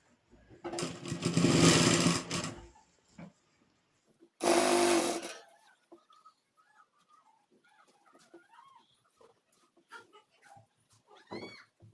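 A sewing machine stitches a full-sleeve nighty in two short bursts of whirring, close and loud, separated by a pause, followed by quieter handling clicks and faint background sounds.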